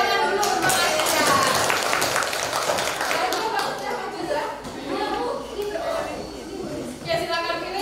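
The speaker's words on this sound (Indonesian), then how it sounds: "Kita beri tepuk tangan dulu untuk Aisyah." A classroom audience gives a round of clapping for a student named Aisyah, a dense patter of hands mixed with chatter and a little laughter, with a teacher's voice running through it.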